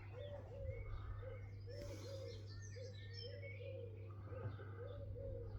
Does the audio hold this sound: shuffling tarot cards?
no